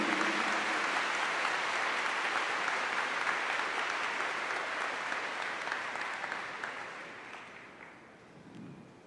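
Applause from a church congregation during a sermon, a full, dense burst of clapping that gradually thins and fades over several seconds before a voice returns at the end.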